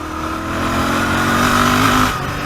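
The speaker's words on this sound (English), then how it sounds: "Open the throttle and the motorcycle is ready to go." A Royal Enfield Interceptor 650 motorcycle with the throttle opened, its engine climbing in one smooth rev and holding high for a moment before dropping back to idle.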